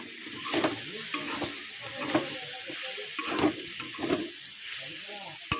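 Fried cauliflower and potato for a vegetarian curry sizzle in a pan while a spoon stirs and scrapes them in a steady rhythm. A voice murmurs faintly underneath.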